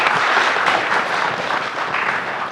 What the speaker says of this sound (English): I would like to give a big round of applause to all our discussion.